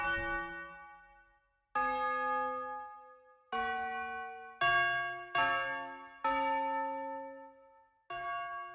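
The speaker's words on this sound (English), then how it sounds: "Those were a little loud, the bells, so they're kind of more of a background texture." Church bells within a seafaring music composition ring out in six separate struck tones, each clear and resonant with a long ringing decay, heard alone and fairly loud.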